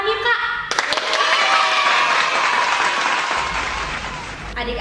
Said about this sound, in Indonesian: Kita kasih tepuk tangan yuk kak.